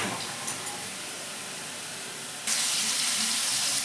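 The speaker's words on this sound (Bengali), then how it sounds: "প্রথমে কড়া জেলে দিয়েছি আগে চিংড়ি মাছগুলোকে একটু ভালো করে ভেজে নেব নুন দিয়ে" Small shrimp fry with salt in a hot pan, giving a steady, close sizzling hiss that jumps noticeably louder partway through.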